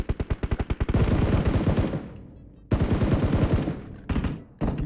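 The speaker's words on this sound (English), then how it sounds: "stop shooting at me" Gunfire in the mobile battle-royale game PUBG Mobile: a quick run of separate shots opens into sustained dense automatic bursts, which stop abruptly and return after a short gap, loud and close.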